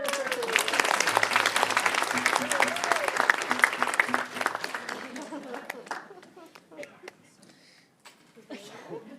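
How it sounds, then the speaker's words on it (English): Applause from an indoor audience at a data conference main stage, a dense burst of many hands clapping that gradually thins and fades, with a voice speaking over it near the start. "You can applaud."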